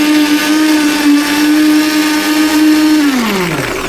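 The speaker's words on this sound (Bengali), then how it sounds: "ব্লেন্ডার চালানোর নিয়ম হচ্ছে প্রতি 30 সেকেন্ড পর পর ব্লেন্ডারকে 10 সেকেন্ড রেস্ট দিতে হবে।" A blender crushing ice for a frappe runs loud and close with a steady motor whine, then the pitch drops as it winds down near the end.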